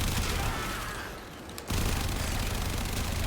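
The AX-52 gun fires in the video game Warframe as a dense, continuous roar of rapid shots. It drops briefly in the middle before the sustained fire resumes, loud and without any talking.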